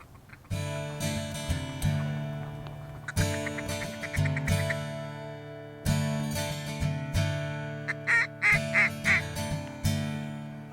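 Ducks quack in a field during late-season waterfowl hunting in Michigan's Thumb, loud repeated nasal calls in steady rhythmic bursts with a few higher sharper notes near the end, close and continuous.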